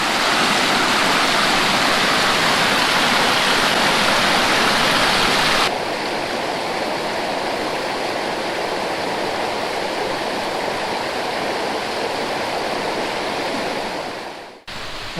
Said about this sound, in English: I love that sound of flowing water.